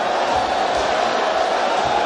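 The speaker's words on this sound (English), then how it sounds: "the crowd are still cheering on. They're still loving what they are seeing." A boxing arena crowd cheers steadily, a dense, loud wash of voices and roaring that holds constant for the whole stretch with no pauses.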